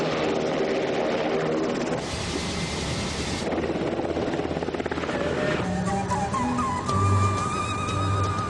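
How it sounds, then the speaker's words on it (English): Rotor thrum and turbine whine of a Black Hawk helicopter, the private aircraft of Jordan's king, fill the clip steadily and loudly from up close, with the engine pitch rising and shifting midway and no talk over it. "Our royal tour of Jordan begins in the king's private Black Hawk helicopter."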